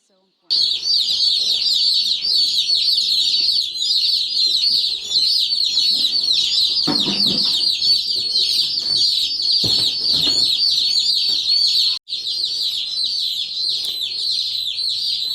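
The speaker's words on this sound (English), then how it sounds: "Now that the birds are all safe and secure in the brooder" Baby chicks kept in a brooder peep constantly in a dense, high-pitched chorus, loud and close, with a few brief handling knocks and a short pause near the end.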